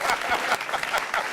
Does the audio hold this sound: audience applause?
yes